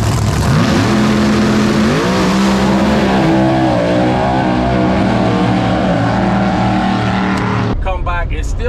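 A drag race car launches and tears down the track at New England Dragway, its loud engine note climbing through several gear changes before cutting off abruptly near the end.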